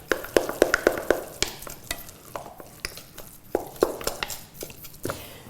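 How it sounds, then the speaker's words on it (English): A spoon mixing butternut pumpkin gnocchi dough in a bowl, giving a quick series of close scraping clicks and soft thuds in an uneven rhythm, with no talking. "So you mix this all in very well like this."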